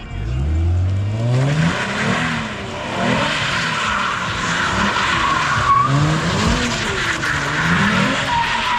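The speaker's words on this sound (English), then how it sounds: "a little blow-off valve" A Nissan G35 with a welded differential slides with tires squealing and engine revving, a turbo blow-off valve puffing between throttle bursts, loud and close throughout.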